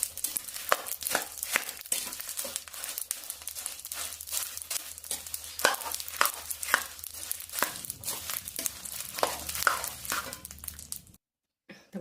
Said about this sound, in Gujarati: ગોળને આ રીતે આપણે મિક્સ કરી દેવાનો છે.